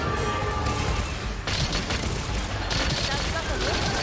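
Rapid bowgun gunfire in Monster Hunter Rise, a dense stream of shots and impact bursts with game effects, under a player talking.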